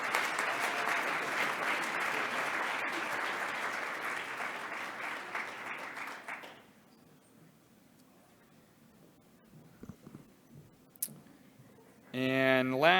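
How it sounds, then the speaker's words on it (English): An awards-ceremony audience claps steadily for about six seconds, a dense, full wash of applause that then fades to quiet room noise, with a voice cutting in near the end. "So I hope everyone will clap for her."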